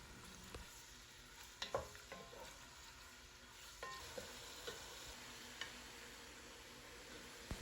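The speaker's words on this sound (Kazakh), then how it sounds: "Қызған майымыздың үстіне етімізді салып, оны толықтай қызарғанша қуырамыз." Meat frying in hot oil in a pan, a soft continuous sizzle with occasional stirring clicks and scrapes, fairly quiet and close with no talking.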